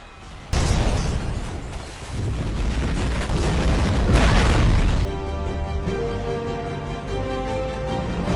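An action-film explosion as fuel dropped from an aircraft ignites over a squad of soldiers: a sudden loud roaring blast that rumbles and crackles for several seconds, then gives way to a tonal, ringing drone.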